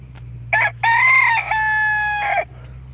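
A rooster crows once nearby, a loud drawn-out call with a brief break near the start, over a low background hum.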